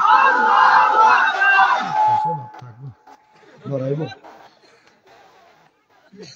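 A crowd at an Islamic mahfil gathering in Comilla answers a call with a loud, unified shout of takbir, then a second, shorter collective cry follows after a pause.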